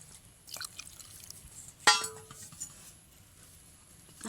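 Water poured into a homemade camphor mosquito-repellent mixture in a container, with a sharp glassy clink followed by a brief splash and faint trickling, close and fairly quiet, with no talking.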